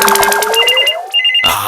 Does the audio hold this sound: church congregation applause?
no